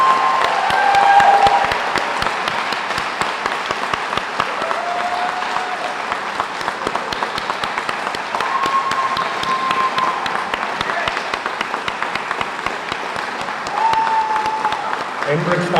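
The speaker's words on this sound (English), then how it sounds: "One last round of applause." A crowd at a police officer pinning ceremony in Edinburg applauds steadily for about sixteen seconds, dense overlapping claps filling a hall, with a few faint tones and murmurs underneath.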